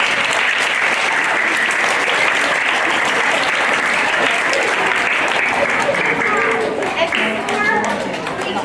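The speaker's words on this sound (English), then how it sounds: "Can we give them a round of applause for all of their" An audience at a school spring concert claps for the student performers, a dense, sustained round of applause that holds steady throughout before easing slightly at the end.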